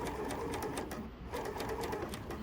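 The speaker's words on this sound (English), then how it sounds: "then we're going to start sewing" A Bernina L460 sewing machine stitches with a gathering foot, giving a steady, fast rhythmic whirr and needle clatter close by, running continuously without pause and without any talk over it.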